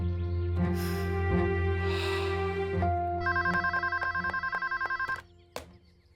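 A telephone rings, first as a long sustained electronic tone, then switches to a rapid repeated trilling bell pattern that cuts off near the end, heard alone without talk.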